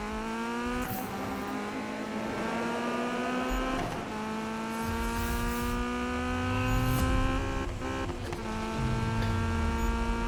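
A car in Need for Speed 2015 accelerates hard through the gears toward top speed. A loud engine tone climbs steadily with brief dips at each shift, and no voices are heard.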